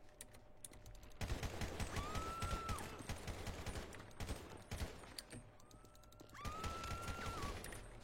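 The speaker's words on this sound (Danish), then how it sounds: "nu skyder jeg ham her" Video game gunfire as a player is shot: dense, rapid bursts of shots and rattling automatic fire, close and loud, with short pauses between volleys and a faint whistling tone drifting through.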